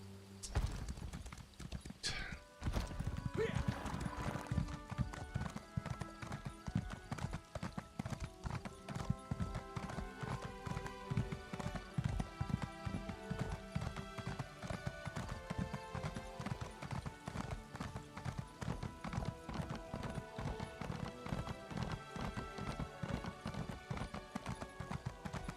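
Rhythmic hoofbeats of a horse in the game ESO High Isle clip-clop steadily for a long stretch, close and even, with a brief whinny early on over a musical background.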